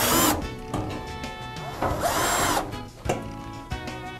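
A power drill drives screws into the side panel of a cabinet in several loud whirring bursts of varying length, with short pauses and clicks between them, close up.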